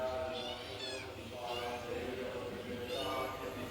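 A cat meows a few times in an open kitchen, the calls fairly close but soft and set against a steady background hum, with some human voice mixed in.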